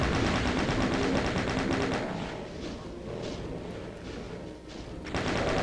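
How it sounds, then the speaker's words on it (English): A rapid, continuous burst of chain gun fire from a Doom map in the video game, loud and close, with shots rattling on without a break. "the chain gun does not get rid of enemies quickly"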